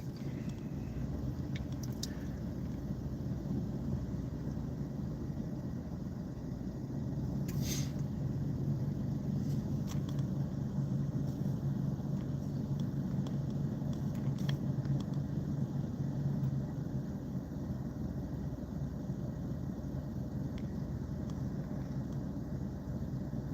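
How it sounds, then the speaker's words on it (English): Steady low engine drone and road rumble fill the cabin of a work ute on an early-morning drive, continuous and even throughout with faint occasional clicks and no talking. "I am driving a work ute. On my way to work."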